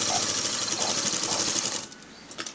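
A sewing machine stitches a pot neck blouse with a fast, steady whirring run that stops abruptly near the end, followed by a few faint clicks.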